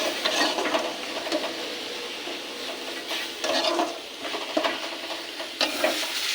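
Slices of ash gourd frying in a pan near the end of cooking, giving a continuous close sizzle with surges of spatter and occasional scraping of a utensil while they are stirred.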